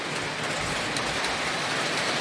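A Lionel O27 model train runs around tight track corners in a hobby shop, making a continuous, even rolling rumble with a faint metallic clatter, close and unbroken, with no talk.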